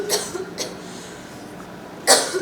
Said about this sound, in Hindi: खांसी का बहाना क्यों बना रही है?